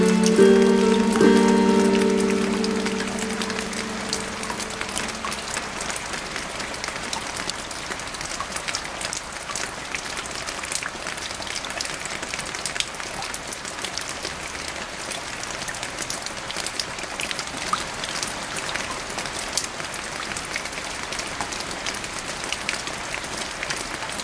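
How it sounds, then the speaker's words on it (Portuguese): Rain falls steadily on a hard surface, a dense, even patter of drops that continues unbroken throughout, with a faint brief tone at the very start. "A chuva"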